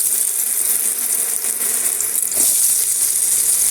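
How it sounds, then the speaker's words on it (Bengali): Pumpkin pieces fry in oil in a wok, giving a loud, steady, dense sizzle that runs unbroken throughout and swells slightly toward the end. "ওই তেলের মধ্যেই বন্ধুরা এবার দিয়ে দেওয়া হচ্ছে কুমড়োগুলোও ভেজে নিতে হবে"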